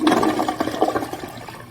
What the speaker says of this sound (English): Let's give it a flush and see what it's looking like.